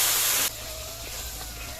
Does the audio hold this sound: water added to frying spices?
yes